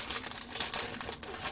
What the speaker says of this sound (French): Alors ça, c'est des autocollants.